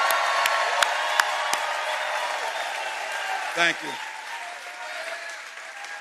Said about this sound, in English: Can we give a round of applause too for Orange Peel for hosting us right here?